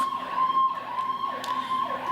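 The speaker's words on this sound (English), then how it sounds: "You could probably hear the ambulance passing by." An ambulance siren wails steadily with a repeating rising and falling tone as it passes outside, heard indoors at moderate distance with no talking over it.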